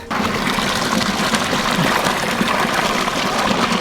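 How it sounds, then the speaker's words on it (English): Water pours and gushes into a bucket being filled at a creek, a steady loud rush of liquid that carries on without a break, close by. "So we're going down to the creek to fill a bucket of water"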